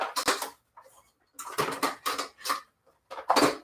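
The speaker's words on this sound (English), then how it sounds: "I'm just going to whisk this" Donut mix and water are whisked by hand in a bowl, giving several quick bursts of clattering, scraping strokes separated by short pauses, close and fairly loud with no voices.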